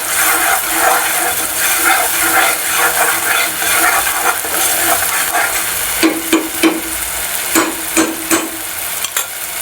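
Something fries in a pan of ghee, butter and a little oil, giving a steady close sizzle and hiss throughout, joined in the second half by a series of sharp scraping, tapping strokes from a utensil, with no voices.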